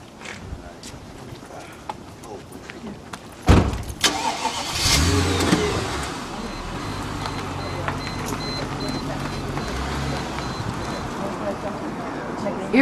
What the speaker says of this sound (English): You can make a U-turn and park right there.